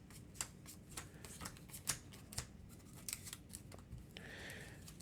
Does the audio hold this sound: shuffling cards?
yes